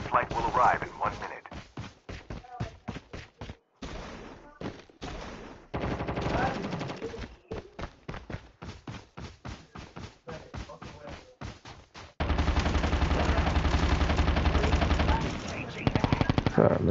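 Rapid bursts of video game gunfire, single shots then long automatic strings, with someone talking excitedly between and over the shooting.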